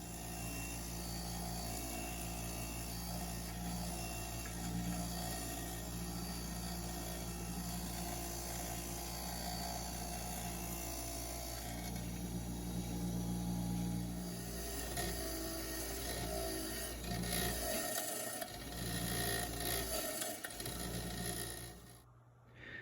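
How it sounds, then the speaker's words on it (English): A brass wire wheel on a bench grinder scours rust from a vintage Snap-on ratchet, a loud, steady motor whine and scraping grind that runs continuously before cutting off at the end. "after about 10 minutes on the wire wheel, I got it cleaned up pretty good"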